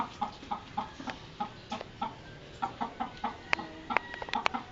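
Several chickens clucking close by in a steady, repeated rhythm, with a few sharper calls mixed in near the end.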